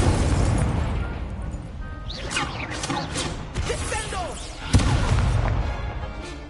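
Fiery Incendio spell blasts in the Hogwarts Legacy video game: several whooshing bursts and booms, with a sharp louder crack near the end over a constant rumbling backdrop.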